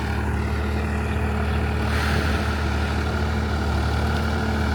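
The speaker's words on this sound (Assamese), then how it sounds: "এয়া এনেকুৱা পানীত আমি ট্ৰেক্টৰ চলাই কেনে হাল মাৰি" A Sonalika tractor pulls a cultivator through a waterlogged paddy field, its engine giving a loud, steady, close drone that runs unbroken from start to finish with no voices.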